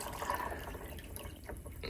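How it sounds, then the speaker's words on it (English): Water being poured into a Vitamix blender jar while making homemade almond milk, a soft uneven splashing and trickling that is faint and close, without talk. "And then another 4 cups of water in the mixer."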